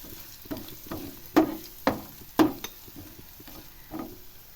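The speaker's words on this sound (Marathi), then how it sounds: "त्याच्यात टाकायची 1 चमचा आलं लसूण पेस्ट, ती सुद्धा चांगली व्यवस्थित तेलामध्ये परतून घ्यायची" Ginger garlic paste sautéing in oil, a soft sizzle under repeated scraping and stirring strokes from a spoon, several sharper knocks in the middle, no voices.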